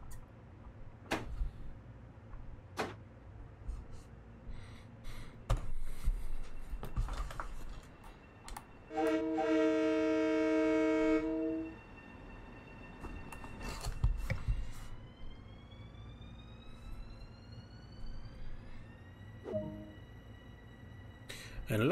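Long Island Rail Road commuter train in Train Sim World 2 running toward New York Penn, with a steady rumble, scattered clicks and knocks, and a loud sustained whining tone midway, plus a rising electric motor whine later.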